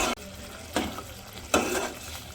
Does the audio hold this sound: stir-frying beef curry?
yes